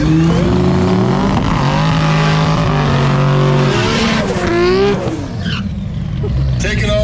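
American muscle and BMW drag cars launch in a no-prep True Street race at Immokalee Regional Raceway, with loud roaring engines rising in pitch through the gears and a commentator talking over the noise.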